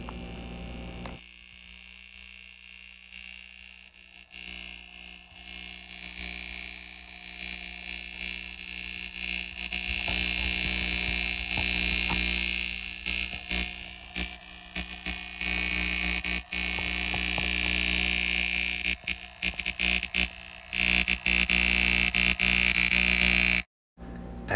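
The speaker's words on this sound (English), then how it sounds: "I'm going to let you listen to what the problem is with this pump." A noisy VIVOSUN 950 GPH aquarium air pump hanging from a pipe in a basement fish room runs with a continuous buzzing hum that grows louder and rougher over time, with sharp dropouts near the end.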